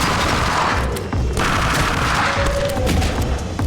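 Rapid video game gunfire bursts out loud and dense, cracking shots packed into a sustained volley with booming hits throughout, nearly continuous with brief lulls and no voices.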